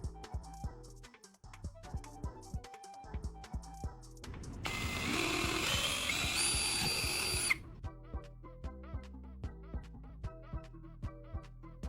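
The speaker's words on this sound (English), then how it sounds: "I'll mark 3 spots on the rim of the PVC pipe and drill small holes" A small power drill whines through a short burst lasting a few seconds, drilling small holes in the rim of a PVC pipe, set between bursts of rhythmic clicking and tapping.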